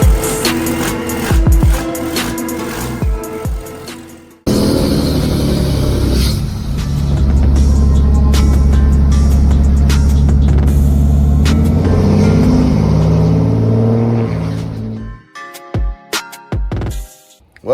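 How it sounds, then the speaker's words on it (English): A diesel race truck engine cold starts loudly, roaring into a heavy rumbling idle that holds steady for several seconds before cutting off, with clatter and knocks before and after. "Cold start."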